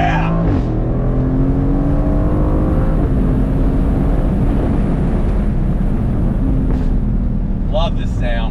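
A 2021 Aston Martin Vantage Roadster accelerating hard in second gear on twisty roads, its engine loud and close, revving up through rising tones with gear shifts, a steady roar throughout and a person exclaiming briefly.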